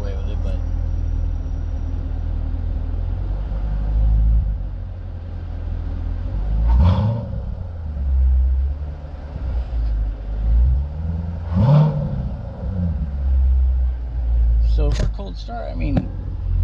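Corvette C7 Grand Sport V8 in sport mode heard from inside the cab, a steady low rumble rising in a few short revs, with people talking over it.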